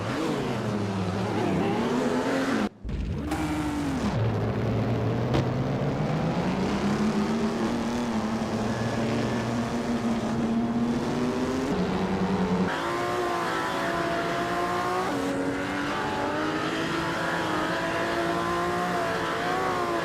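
Race car engines scream continuously at close range, their pitch rising and falling as the cars accelerate, shift and pass one another.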